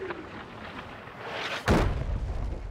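A single heavy boom from a 105 mm howitzer of the First World War era lands about two-thirds of the way through, rising out of steady low rumbling background noise.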